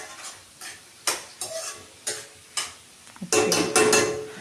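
Turkey berries frying in a pan while a spoon stirs and scrapes, a run of spaced metallic scrapes and knocks over a soft sizzle that turns louder and busier near the end.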